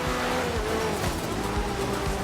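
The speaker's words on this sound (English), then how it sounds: "Sounds like a turbo flutter. So this is definitely something turbocharged." A turbocharged race car in a racing video game roars at high revs, its engine tone wavering with fluttering turbo chatter and a faint tire squeal, loud and continuous with no talk.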